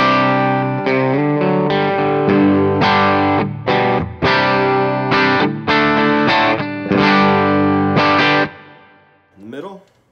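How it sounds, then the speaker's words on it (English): MJT Scarlett electric guitar on its bridge pickup with a clean tone through a Line 6 Helix, strumming a series of ringing chords with chorus-like shimmer and echo, then fading out with a brief trailing scrape. "let's start with the bridge, and this is my clean tone going through the line 6 Helix"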